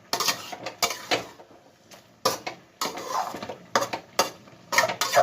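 Prawns and kochu saag (taro leaves) being mixed in a pan, heard as a series of close, broadband scraping and clattering bursts from the spoon with short quiet gaps between strokes.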